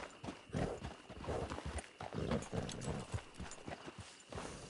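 Steady horse hoofbeats clip-clop at a walking pace in Red Dead Redemption 2, close and fairly loud, with a faint background hum.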